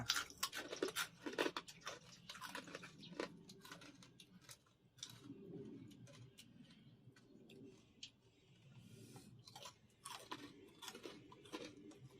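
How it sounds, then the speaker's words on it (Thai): Crunchy pork rinds are chewed close up, with repeated crisp crunches and bites coming in irregular bursts, alongside soft bird calls in the background. "กรอบกรอบกรอบแคบหมู บางส่วก็จะแข็งเนาะ"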